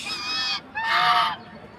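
Two loud, nasal duck honks close by, the first shorter, the second longer and harsher, with a brief gap between them.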